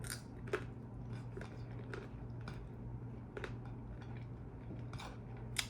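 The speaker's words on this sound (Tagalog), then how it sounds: "Malutong pa yung prito kong isda." Crispy fried fish is bitten and chewed close to the mic with repeated sharp crunches at an uneven chewing rhythm, over a low steady hum.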